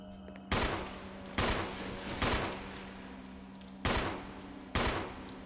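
Pistol shots fired at a spider in the video game Resident Evil, five sharp single reports at uneven intervals, each followed by a short decay over a quiet steady background hum.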